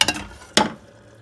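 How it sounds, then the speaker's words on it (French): A spoon scrapes twice through a cooking mixture of clementine, orange and lemon zest in a saucepan: two short stirring strokes close by, followed by quiet. "Et on mélange, on sait jamais si ça accroche au fond."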